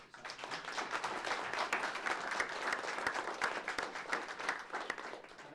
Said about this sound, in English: perhaps you could join me in a round of applause for all the speakers this